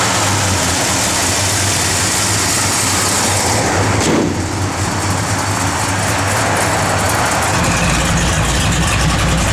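A 1966 Plymouth Belvedere II with a 383 V8 and a low cam runs loud and close, its deep, steady rumble continuing throughout with a brief sharper blip around the middle.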